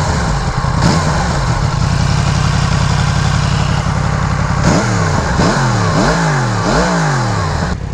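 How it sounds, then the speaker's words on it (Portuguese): Yamaha MT-10 with a crossplane four-cylinder engine idles loudly up close, then gives a series of four or five sharp throttle blips, each rising and falling quickly, with no talk. "Vamos ver este som característico dos quatro cilindros cross-plane."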